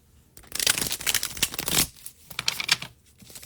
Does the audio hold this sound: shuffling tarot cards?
yes